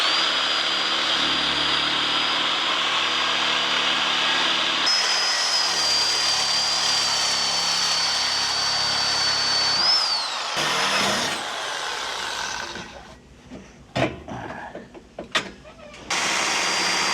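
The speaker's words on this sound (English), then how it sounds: "I'm going to use a sawzall to make my initial cuts to get the bulk of it out the way" A sawzall cuts metal tubes on a Can-Am Defender for a seat mount install. Its loud, steady buzzing whine runs close by for about ten seconds, then gives way to scattered clanks and shuffling of the tool and metal.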